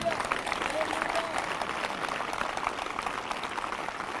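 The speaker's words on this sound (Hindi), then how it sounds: "जो जिंदा हैं वो ताली बजाकर धन्यवाद कर रहे हैं।" A congregation at a live morning prayer meeting claps in thanks, a continuous, even roar of many hands clapping together for several seconds.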